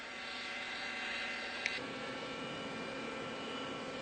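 A helicopter at an air show passes at a distance, a steady broad whooshing rotor and engine noise that stays fairly quiet and even, with a brief click near the middle.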